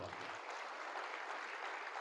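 Applause from an audience at a motivational seminar, a faint, steady wash of many hands clapping heard alone, at low level throughout.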